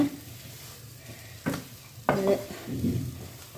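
Ripe banana batter sizzles softly in a pan, a low steady fry hiss broken by two sharp clinks of a utensil against the pan and some scraping and stirring close by.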